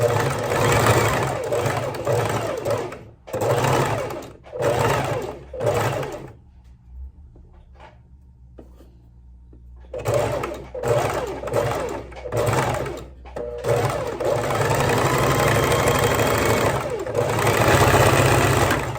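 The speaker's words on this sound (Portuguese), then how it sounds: "Levantou a agulha, veio, desceu, retrocesso de novo. E segue a costura." A sewing machine stitches fabric in loud, close bursts of rapid mechanical whirring, stops for a few seconds of near silence while the needle is lifted and the stitch reversed, then resumes running steadily.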